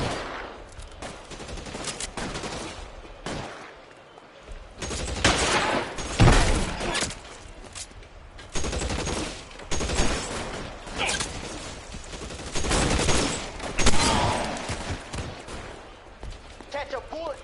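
Loud bursts of gunfire in the 1940s detective game LA Noire, repeated clusters of rapid shots in a shootout, mixed with shouted dialogue and game ambience.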